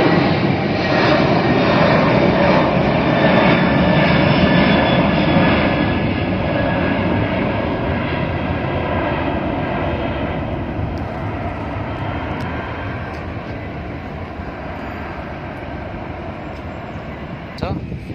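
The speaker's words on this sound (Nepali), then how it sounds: "हवाई जहाज उडिरहेको दृश्य" An airplane flying at night near Bahrain International Airport gives a loud, steady engine roar that slowly fades over many seconds.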